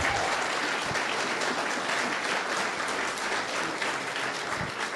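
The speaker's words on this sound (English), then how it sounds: "so a round of applause" Sustained applause from a room full of people at a 2014 public meeting in Egham about a Heathrow flight path test, even and continuous clapping throughout.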